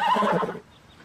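A horse whinnies loudly and close, a single strong neigh that rises and then fades out within about half a second, leaving quiet behind.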